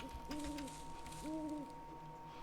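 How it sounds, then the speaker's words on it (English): An owl in the video game Bigfoot gives two soft, hollow hoots about a second apart, faint and distant over a steady background hum. "I heard an owl."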